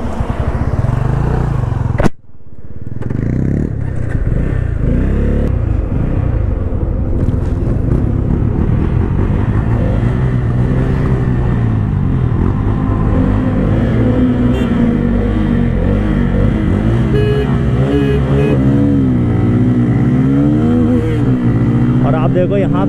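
Bajaj Pulsar N160 and N250 motorcycles drag racing, engines roaring loudly and steadily close by, with someone talking over the engine noise throughout after a brief sharp dropout near the start.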